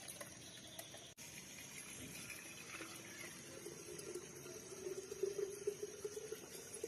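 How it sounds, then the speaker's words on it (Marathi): Water runs and splashes steadily into a kalash pot prepared for Gauri puja, a continuous soft gushing that grows slightly fuller near the end, faint and close, with no talking. "ह्याच्यात पाणी घेतलेलं आहे कळस भरून"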